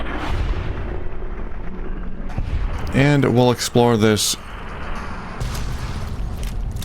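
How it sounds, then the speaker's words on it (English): Explosions and gunfire-like booms in Fallout: New Vegas after a nuke launch, dense loud blasts swelling mid-clip over a busy game soundscape, with someone talking over the start. "Oh, there are a lot of explosions happening."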